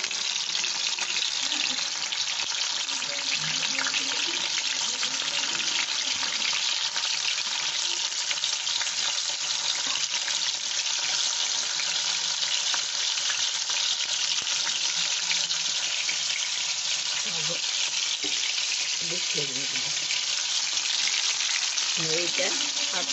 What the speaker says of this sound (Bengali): এই পনিরগুলো ভেজে ওখানে দিয়ে দেবো।